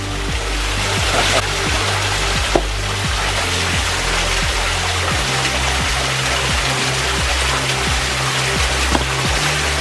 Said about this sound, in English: it's a pretty nice waterfall